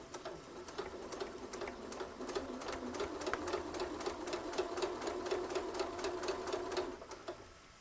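A sewing machine stitches a quilted Santa cookie rug in quick, evenly spaced needle clicks over a soft motor whir, running steadily for several seconds before stopping, close and alone without talk.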